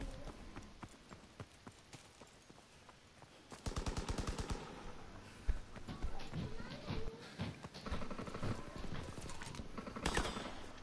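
Rapid bursts of gunfire in Call of Duty WW2, quieter scattered shots at first, then dense automatic fire and further bursts, with voices talking over the shooting.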